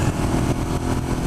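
A stock Suzuki SV650 motorcycle engine pulls hard in third gear at around 6,000 RPM, a steady, loud, dense mid-range drone with rough throbbing texture that stays continuous throughout.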